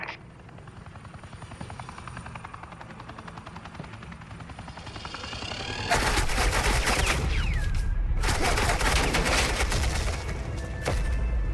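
Suppressing gunfire in a Batman Telltale game, a loud sustained rattle of automatic fire that bursts in about halfway through over a droning engine-like rumble, continuing with a brief break.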